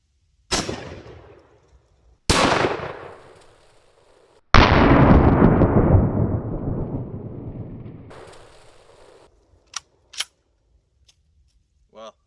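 Outdoor shots from a Mosin rifle crack loudly, two sharp reports followed by a third with a long rolling echo that decays over several seconds, then a few brief softer clicks and knocks.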